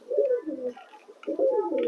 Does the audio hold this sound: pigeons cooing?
yes